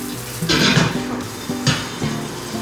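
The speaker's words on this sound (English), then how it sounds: "we're gonna put some oil and burn an onion slice or two in there and cover the lid" Onion slices burning in oil in a covered pan, close sizzling in two loud bursts with low stirring or pan clatter beneath.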